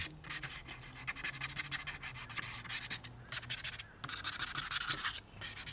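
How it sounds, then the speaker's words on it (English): Chrome exterior trim on a 2020 Nissan Rogue is scuffed by hand before painting, producing close, rhythmic abrasive rubbing strokes with brief pauses between passes. "I'm just gonna scuff this up a bit, scuff it up for the paint to sit on"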